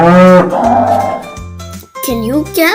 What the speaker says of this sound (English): Can you guess what animal this is? This is a cow.